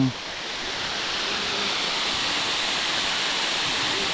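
Steady, broadband rushing of a waterfall about 50 meters high, constant and unbroken throughout, with no other sounds standing out.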